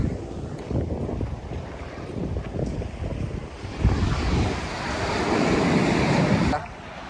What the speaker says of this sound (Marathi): हे बघा लाटांचा आवाज एवढा यायला लागले की काय सांगायलाच नको